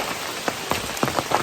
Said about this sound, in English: Well, it's still actively raining as well,